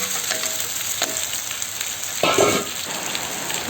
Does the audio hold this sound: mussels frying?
yes